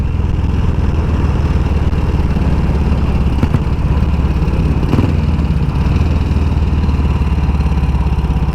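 Steady mid-pitched engine droning throughout while riding a vintage Velocette Venom motorcycle at about 40 mph and 2,500 rpm, a brief shift in tone around the middle as it goes into second gear, no talking over it.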